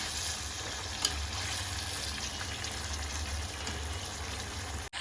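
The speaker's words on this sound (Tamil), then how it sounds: "இப்போ ஹை ஃப்ளேமில் பொன்னிறமாக வர வரைக்கும் சிக்கனை நல்லா வதக்கணும்" Chicken pieces frying on a high flame for butter chicken, a dense continuous sizzle throughout with one brief clink of a utensil and a short drop near the end, no talking.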